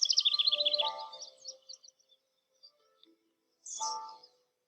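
In a spring scene, birds give a quick rapid trill of high chirps followed by scattered short notes. After a brief pause a second chirping burst comes, clear and close, with no talk over it.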